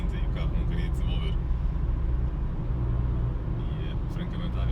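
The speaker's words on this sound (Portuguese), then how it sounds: "Íamos a 85 para aí, com o pé no fundo em quinta e o carro não queria desenvolver." The small engine of a Toyota Yaris drones steadily at full throttle in fifth gear, heard from inside the car as a constant low strain with faint road noise.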